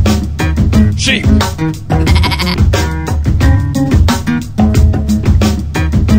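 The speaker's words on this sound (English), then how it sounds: "Sheep." Sheep bleating in the game Pumkinland, a series of loud, close bleats rising over repeated game music and sound effects, with no speech.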